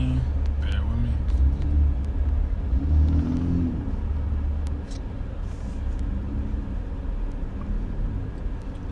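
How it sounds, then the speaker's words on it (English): Road traffic rumbles past with cars passing, a steady low engine drone and occasional revving, fairly distant, beneath no clear talk. "This traffic is crazy, man."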